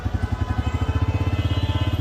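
Royal Enfield Classic 350 single-cylinder motorcycle engine just started, idling with a steady, even thump, close by and moderately loud, no talk.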